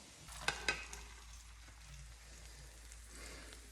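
A Spanish omelette cooking in oil in a pan, a soft continuous sizzle with a couple of sharp clinks near the start, fairly quiet and close, no talking.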